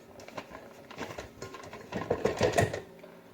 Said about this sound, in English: Once you have your softened butter, you're gonna put it in the mixer